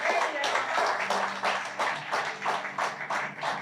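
Congregation applauding during a church sermon, a steady run of rhythmic group claps in repeated bursts, fairly close and loud, with a voice mixed in.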